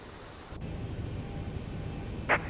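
Rain falling in a flight simulator video game, a steady moderate hiss of rainfall with a brief brighter burst near the end and no talk.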